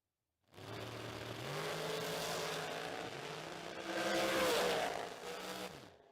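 Dirt-track race car engines roar and rev at a creek racetrack meet, the loud engine note rising and falling with shifting pitch as the car passes close by, with no talk over it.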